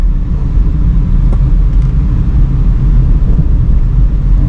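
A car rolls downhill in third gear, its engine and road noise forming a loud, steady low rumble heard from inside the cabin with no talking.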